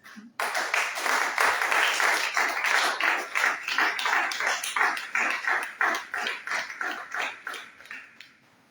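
A congregation claps rhythmically in unison at a church sermon, loud and sustained at first, then slowing into distinct separated claps that fade toward the end; faint voices mix in.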